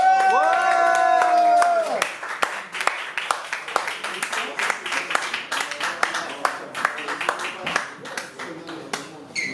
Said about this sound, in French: On applaudit très fort, très fort, très fort, très fort le gagnant de la soirée.